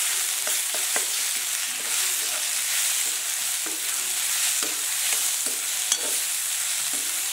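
Kinema fermented soybean curry frying with garlic-ginger paste gives a steady sizzle, with scattered stirring scrapes and clicks throughout, close and continuous with no talk.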